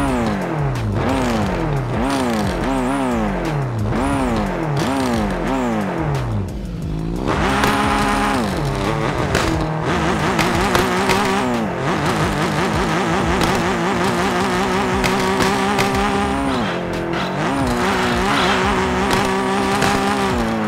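A Mazda Miata with raised turbo boost races in Car Parking Multiplayer 2, its engine revving hard and climbing through repeated gear shifts, loud and close, with steady rising and dropping pitch and no talk.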